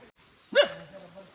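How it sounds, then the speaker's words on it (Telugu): A single sharp dog bark rings out, followed by a short trailing whine, against a quiet outdoor background. "చూడండి ఆ కుక్క ఎలా అరుస్తుంది"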